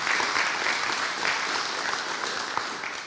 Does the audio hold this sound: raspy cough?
no